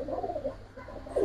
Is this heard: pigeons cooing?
yes